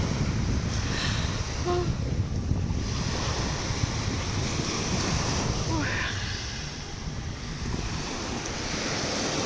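Strong wind buffets the microphone over steady surf, a continuous roaring rush with no talking.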